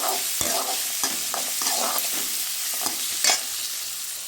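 Tomatoes and shallots sautéing in a pan, with a steady close sizzle of frying broken by repeated scraping and clattering strokes of a spoon stirring.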